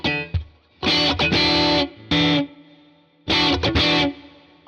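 Electric guitar played through a Tone King Imperial MKII amp with spring reverb and delay, crunchy driven chords struck in three bursts with short gaps, the last chord ringing out into a fading reverb tail.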